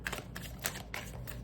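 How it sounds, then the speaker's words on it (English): A tarot card deck being shuffled by hand, a run of quick papery riffles and soft flicks close by, with no voices. "I'm going to shuffle the deck really quick,"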